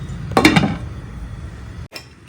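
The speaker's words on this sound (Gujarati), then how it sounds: "તો હું આને છે ને ઢાંકણ ઢાંકી દઉં છું" A lid goes onto a pot of boiling pasta with a couple of quick metallic clinks, followed by a soft, quiet simmering hiss with no talking.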